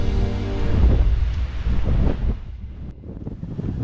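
Strong gusting wind buffets the microphone on Lanzarote, a loud, continuous low roar that swells and dips with no voices.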